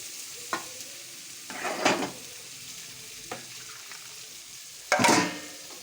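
Fried soybean chunks are sautéed in a pan over a low sizzle. A spatula scrapes and stirs in a few separate bursts, with the last burst loudest, and no one speaks.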